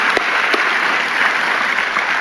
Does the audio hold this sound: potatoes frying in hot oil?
no